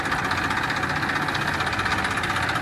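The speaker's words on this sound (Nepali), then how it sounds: "अब ट्र्याक्टर निकाल्न एकदम गाह्रो हुने भयो" A tractor engine runs while the machine is stuck in a muddy, rocky field pit, giving a steady, rough mid-pitched rumble with a knocking edge that holds a constant level throughout.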